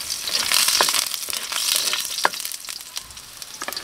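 Chili and garlic hit hot oil in a pan to start a spicy snail adobo, giving a close, steady crackling sizzle with bursts of spattering throughout.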